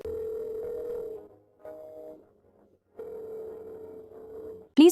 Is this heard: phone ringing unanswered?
yes